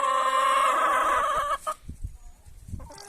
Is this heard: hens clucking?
yes